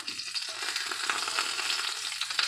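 Bacon browning in oil in a frying pan for oxtails and cabbage, giving a steady close crackling sizzle with small pops throughout, no voices.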